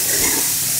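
Turkey strips sear in a hot pan with a steady, dense sizzle that holds evenly throughout, close up and with no voices.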